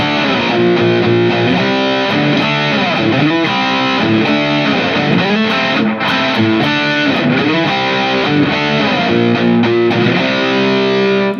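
A riff played slowly on electric guitar, with dense distorted chords and picked notes sustained loud and continuous throughout, with no talking.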